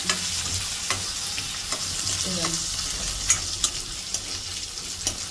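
Shredded cabbage and green chillies fry in a pan for a peanut cabbage chutney, giving a steady crackling sizzle with scattered pops and a few scraping stirs, close and moderately loud, with no talking.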